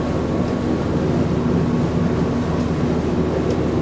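A Duchy 27 gentleman's motor cruiser running at about 2,900 revs and nearly 16 knots, a steady, loud low engine drone mixed with rushing water and wind for the whole stretch, no voices.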